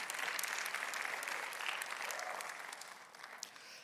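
Members of a church congregation clap together in a dense burst of applause that starts strong and gradually thins and fades toward the end, with no talk over it.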